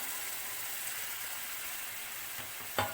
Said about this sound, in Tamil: இப்போ நம்ம அரைச்சி வச்ச இந்த தக்காளி பேஸ்ட்டை இதில் சேர்த்துக்கலாம்